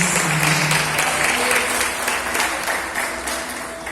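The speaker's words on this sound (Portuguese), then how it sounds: "Pode sentar aplaudindo a nosso Senhor." A church congregation applauding during a Holy Communion service, steady dense clapping throughout with a faint sustained tone underneath, fairly loud and continuous.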